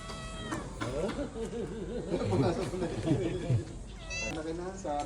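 A homeless family of cats living underground in a cemetery meows repeatedly, with high drawn-out cries close by, while people talk over and between the calls.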